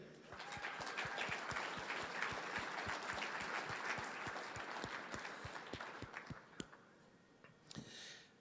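A banquet audience at a motorsport awards dinner claps for an award recipient, dense sharp hand claps rolling steadily for several seconds, then thinning out and fading to scattered claps and room murmur.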